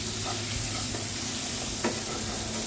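Chopped tomato goes into hot frying spices for a Bengali chara pona fish curry, giving a continuous close-up sizzle with occasional stirring scrapes and one brief sharp clack of the utensil.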